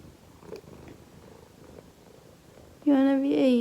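A pet cat purrs softly and steadily up close, a quiet low rumble that is then covered by a person's voice speaking to it.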